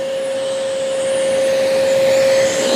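A Bissell Little Green Mini 4015 portable carpet cleaner runs with its hose tool fitted, giving a loud, steady motor whine with a constant tone that continues throughout.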